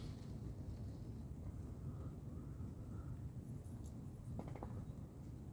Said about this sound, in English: Wind's got up nicely.